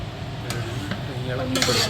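Chicken perattu stirred with garam masala in a pan, a close scraping stir over a soft sizzle, with a few light clinks of a utensil against the pan.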